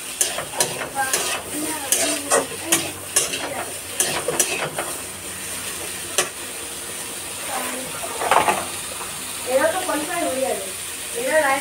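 Ginger-garlic paste, tomato, potato and onion fry together in a pan under constant sizzling, with a quick run of repeated stirring scrapes and clanks, then slower stirring while someone speaks.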